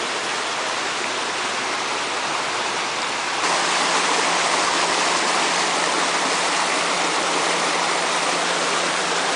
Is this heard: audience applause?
no